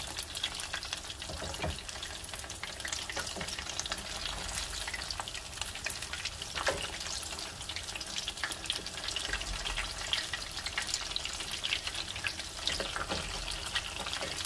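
Potato croquettes fry in oil at about 350 to 360 degrees Fahrenheit, a dense, even crackling sizzle that runs steadily throughout, close and moderately quiet, with no talking.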